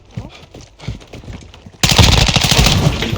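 Loud rapid automatic gunfire in the online shooter Warzone 2 ranked mode, bursting in suddenly and continuing as a dense rattling stream after a quieter stretch of softer in-game sounds.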